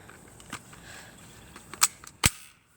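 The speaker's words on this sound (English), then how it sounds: "I just need to chamber it." Airsoft gun being chambered: a few sharp plastic clicks and clacks, the loudest two coming close together near the end, with quiet room noise between them.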